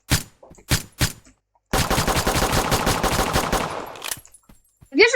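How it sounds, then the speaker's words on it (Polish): Video game gunfire: a few loud separate shots, then a long sustained burst of rapid automatic fire, close and harsh, ending in a couple more shots with a brief voice at the end. "Wiesz, że w ciebie strzelam."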